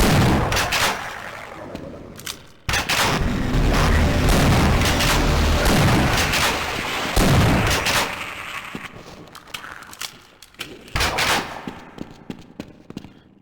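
Loud shotgun blasts from Half-Life: Decay on PS2, fired close up in a chaotic firefight, with heavy booming shots and bursts packed densely across most of the stretch, then tapering to scattered sharper reports near the end.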